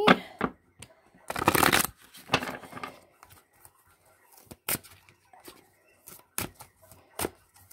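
Tarot cards are shuffled close up for a reading, a run of quick papery riffles and flicks in irregular bursts, with someone speaking between them.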